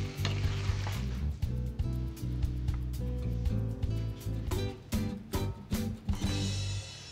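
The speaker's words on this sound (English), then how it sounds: "I'm gonna heat some tortillas and I'm gonna make some chubby tacos." Corn tortillas heat on a hot pan with a steady sizzle, broken by repeated soft taps and scrapes as they are handled and turned, close and clear with no talking.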